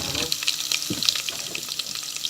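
Onions hit a hot pan and fry with a steady, close sizzle, with a brief stirring scrape partway through, while a fish dish is being cooked.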